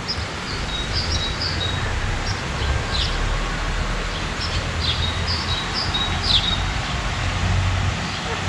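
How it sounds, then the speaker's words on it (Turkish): Bird singing in village countryside gardens, short chirpy phrases repeating at a moderate distance over a steady outdoor background hum. "Yine o bizim güzel kuş ötüyor."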